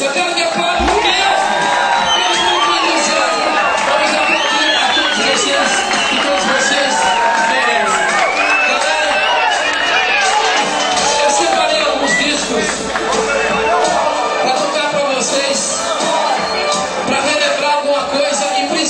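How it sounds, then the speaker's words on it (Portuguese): A large crowd at a circuit dance festival cheers and whoops continuously, a loud, dense wall of shouting and hubbub, with a voice over a loudspeaker at times. "Eu quero que aplaudam mesmo!"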